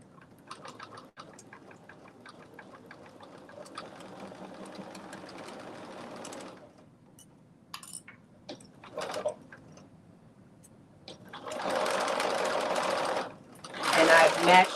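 A sewing machine joins two back pieces of a McCall's 8142 garment at a 5/8-inch seam allowance, whirring in uneven runs near the microphone while a person talks over much of it.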